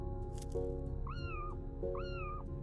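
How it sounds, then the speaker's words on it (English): Two cartoonish meows from cats in the puzzle video game Sudocats, each a rising-then-falling whine, heard clearly over steady background game music. "A grumpy cat wouldn't do that noise though."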